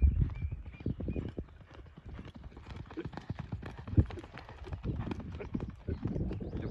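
Horse hooves clip-clopping as a horse is ridden during a practice session, with a quick, uneven patter of hoof strikes and one heavier thud partway through, moderately close over faint background noise.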